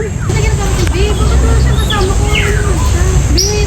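Wild birds give short, scattered chirps and sweeping calls, faint to moderate and somewhat distant, over a steady low rumble of outdoor background noise.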